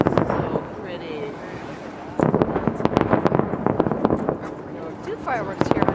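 Chinese New Year fireworks exploding over New York City in 2015, a steady run of sharp bangs and crackles at medium distance, with people talking throughout and some voices rising over the blasts.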